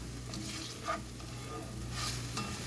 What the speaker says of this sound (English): And we'll saute the onions.